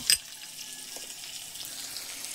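Cumin and coriander powder hit hot oil for a vegetable curry, opening with a sharp sizzling burst and then settling into a steady, soft frying hiss.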